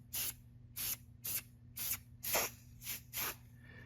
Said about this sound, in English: take a spray texture and we would spray it on